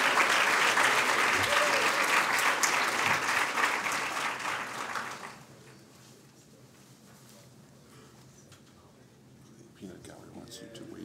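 Audience at a 2016 white coat ceremony claps loudly and densely for about five seconds, then the applause drops off sharply into quiet room noise with faint rustling, rising slightly again near the end.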